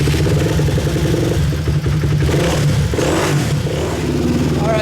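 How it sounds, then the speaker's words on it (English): A YZ144 two-stroke motorcycle engine runs steadily after being restarted warm, with a dense, buzzy idle and slight rises in revs throughout, loud and close with no talk. "I'm gonna fire this thing back up here real fast and keep it running"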